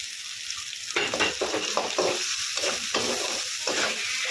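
Ginger and garlic paste with turmeric frying in a pan, a close, steady sizzle broken by repeated stirring scrapes in an uneven rhythm; no talk.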